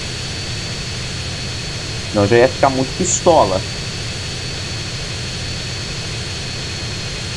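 Airplane engine in the GTA San Andreas video game, a steady droning whine running throughout, with a person talking briefly over it in the middle.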